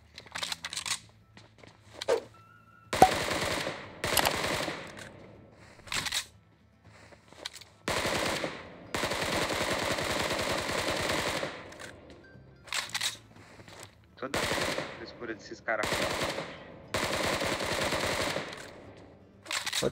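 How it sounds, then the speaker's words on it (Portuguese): Machine gun fire in the battle royale game PUBG comes as repeated rapid bursts of shots of varying length with short pauses between them, loud and close, with no talk over them. "Tá atirando só pra ver se eu acho"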